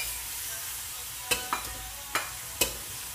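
Meat added to a pot of Kare-Kare, with a steady soft sizzle throughout and four sharp clicks of a utensil stirring against the pot, close and fairly quiet, with no talking.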